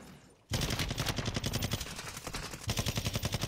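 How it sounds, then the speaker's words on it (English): Video game gunfire arrives as rapid automatic bursts of loud shots after a brief quiet start, with a short pause and then another fast rattling volley. "How is he shooting underwater?"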